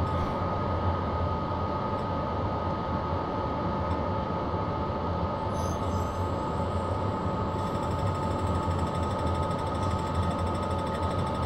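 A BR103 electric locomotive's air compressor runs steadily in Train Simulator on the Hamburg–Hanover line, a continuous loud mechanical drone with even hum and rattle throughout, no talking over it.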